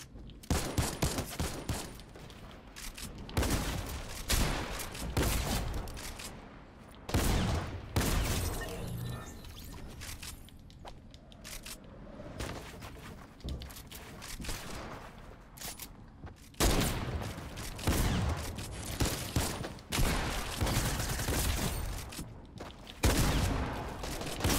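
Rapid gunfire bursts and volleys ring out in a building shooter video game, dense and loud throughout with short pauses between flurries, alone without talk.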